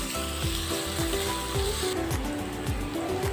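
Ginger garlic paste frying with softened onions in a pan for a Madurai chicken salna, a steady close sizzle with rhythmic clicking beats from stirring or a nearby mechanism throughout.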